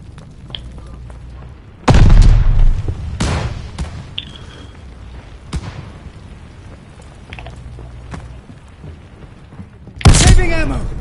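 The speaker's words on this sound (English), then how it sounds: "Throwing grenade!" Two heavy grenade explosions burst in a video game, about eight seconds apart. Each is a sudden loud boom with a crackling tail, and quieter rustling, light impacts and distant rumbles fill the gap between them.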